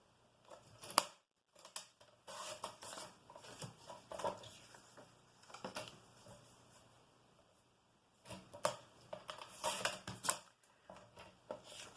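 Scissors cut through a sheet of paper in faint, close snips and slides that come in irregular clusters with brief gaps, and nobody speaks.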